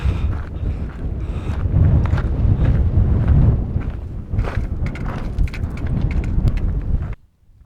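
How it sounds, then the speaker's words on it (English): Strong wind on Mount Elbert in Colorado buffets the microphone in a loud, continuous roar with gusty swells, then cuts off abruptly near the end. "Super windy,"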